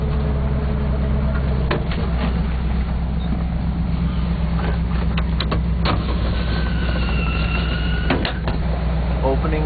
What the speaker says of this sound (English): Here I am in my dump truck. You can probably hear it running.